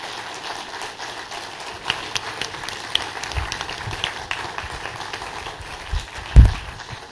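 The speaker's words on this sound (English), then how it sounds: "Please give him a large round of applause." An audience claps for a speaker at a software conference, a dense steady patter of many hands heard at moderate level throughout, with a few louder claps near the end.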